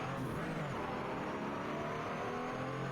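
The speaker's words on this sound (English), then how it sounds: "It sounds like a bit of a clumsy gear shift there" A Porsche 935/K3 race car circles Road Atlanta during an SRO USA Cup race, its engine a steady distant drone that holds through a rough, clumsy gear shift, with no talk over it.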